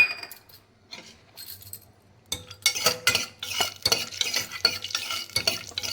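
Cashews frying in a little hot oil for palak rice: quiet at first, then a spoon stirs and scrapes against the pan with clinks over a soft sizzle.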